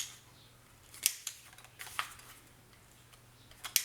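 Scissors trim rounded corners on paper for a scrapbook mini album, a few crisp, close snips spaced apart in a quiet room.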